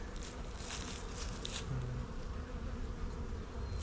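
Honey bees humming in a low, steady drone across a hive frame during an inspection, close and continuous with faint rustling and no talk.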